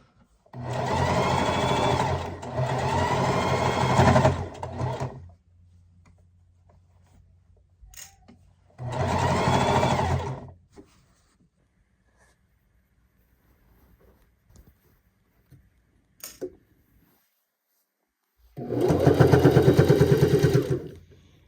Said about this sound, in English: So when you're sewing, all you want to do is guide the fabric, because this is fleece and it stretches